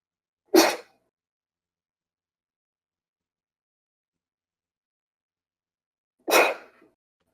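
Two loud, close sneezes from one person, roughly six seconds apart, with silence in between.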